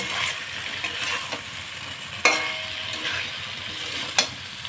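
Chicken pieces and fried potatoes sizzling in a pan for a roast chicken curry, a steady close frying hiss broken by a few sharp clinks of the spoon stirring them.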